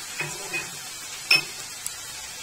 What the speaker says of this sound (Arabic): واقلب كده ادي التوابل تحميصة